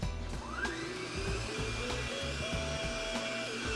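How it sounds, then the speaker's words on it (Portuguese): An electric mixer beats cocoa into eggs for a chocolate dessert, a steady close motor whir with rhythmic churning pulses from the beaters, running continuously with no voices. "Aqui a gente deixa a batedeira fazer o seu trabalho"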